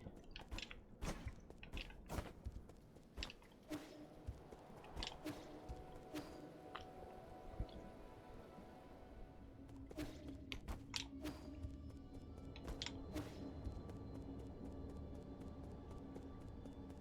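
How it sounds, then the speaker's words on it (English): Mouth-close chewing from a streamer playing Nine Sols, soft irregular crunches and wet squishes recurring every second or so over a low steady game background. "hopefully I'm not making too many chewing sounds"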